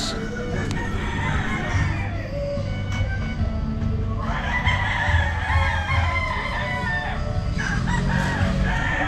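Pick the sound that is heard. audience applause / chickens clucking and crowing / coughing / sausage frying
chickens clucking and crowing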